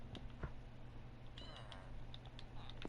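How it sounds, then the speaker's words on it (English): A small cat in Minecraft meows a few times, soft and high-pitched, over a low steady background hum with faint clicks. "Did you guys hear that cat?"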